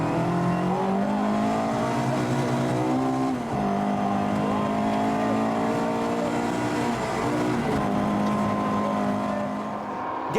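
A classic rally car on dirt roads holds a loud, continuous engine note from close by, revving up and down through gear changes as it drives hard, with no pauses across the run.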